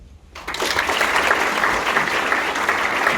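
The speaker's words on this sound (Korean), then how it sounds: "다시 한번 최재형 위원장님께 격려의 박수 부탁드립니다" Delegates at an annual union assembly break into applause after a short quiet moment, a loud, full round of many hands clapping that stays steady and continuous to the end.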